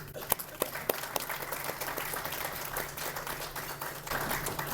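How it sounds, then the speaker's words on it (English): An audience at a business leadership dialogue event claps, starting with a few sharp scattered claps and swelling into steady applause, moderately distant. "So a round of applause to the BC Care Providers Association."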